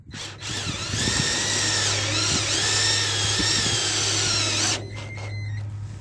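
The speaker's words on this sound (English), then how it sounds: "Now I just zing it in with a couple of self-drilling screws." A power drill whirs at high speed for about four seconds as a self-drilling screw is driven in, with its pitch shifting under load, then stops.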